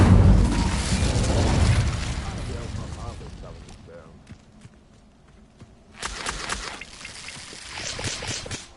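A spoken Incendio fire spell in Hogwarts Legacy bursts out as a loud whooshing, roaring flare that fades into quieter clatter before another rushing flare erupts, with a voice speaking over it.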